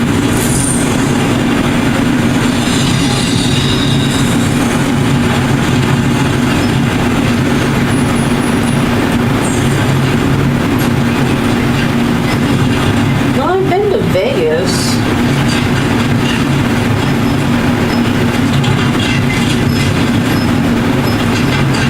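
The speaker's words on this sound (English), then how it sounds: "Maybe I didn't realize it was a monorail" A monorail train in Death Stranding 2 rumbles along continuously with a low, steady drone and wheel noise, loud throughout, while someone talks briefly over it.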